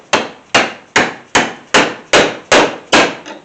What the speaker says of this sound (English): I'm just going to bash this down